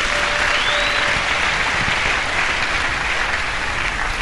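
A church congregation applauding during a sermon, dense steady clapping from a large crowd, sustained and even with no pauses.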